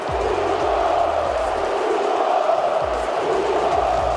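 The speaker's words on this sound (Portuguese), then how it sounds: "Um grito diferente ecoou nas arquibancadas do Maracanã." Flamengo fans in the Maracanã stands shouting together, a loud sustained roar of massed voices with chant-like swells and deep bellows echoing through the stadium.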